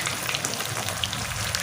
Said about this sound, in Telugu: కొంచెం కాలాలి మిర్చీలు.